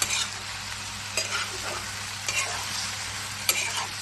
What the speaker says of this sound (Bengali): সুন্দর করে নাড়ব।